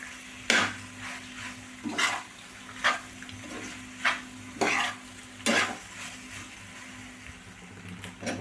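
Homemade pasta fries in a pan, with a soft constant sizzle under about six distinct, evenly spaced scraping strokes of a spatula stirring it, close and fairly loud, with no talking.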